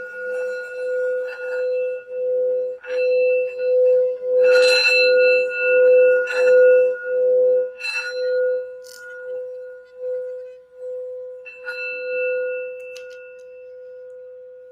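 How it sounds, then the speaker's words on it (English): A sound bell struck several times in a quiet room during a tarot card reading, each strike leaving a clear, steady ringing tone that sustains and slowly fades between hits, close and fairly loud, with no speech. "I just wanted to do the sound bell really quick just to help focus the energy."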